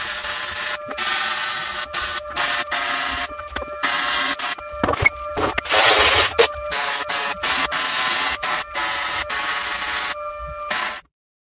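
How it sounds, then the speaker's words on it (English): An ARCCAPTAIN MIG 200 welder lays beads on a steel mower deck, a steady crackling buzz of the arc that starts and stops in repeated bursts, close and fairly loud, ending in silence. "So, let's weld on this deck with this thing and see how it does."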